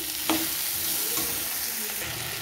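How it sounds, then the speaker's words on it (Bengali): Potato curry with chana dal and grated coconut is stirred in a hot pan, a steady close sizzle with a few soft spoon scrapes, no voices. "এবারে নারকেলটাকে দিয়ে আমি কিছুক্ষণ নেড়ে চেড়ে নেবো"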